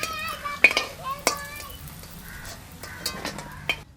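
Rohu fish frying in a pan gives a faint, steady sizzle broken by a few sharp metal clinks of a utensil against the pan as it is stirred.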